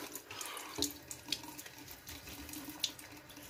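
Tap water runs steadily into a sink for a post-shave rinse, with a continuous close splashing hiss and small clinks and drips, no voices.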